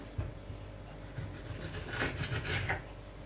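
Knife cutting a tomato into small pieces on a board, soft scraping and rubbing strokes close by, a few irregular cuts over about three seconds with no talking.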